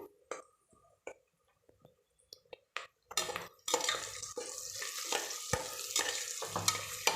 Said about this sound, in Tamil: இப்போ இந்த பாருங்கள் நல்லா வதங்கிட்டு இருக்குது.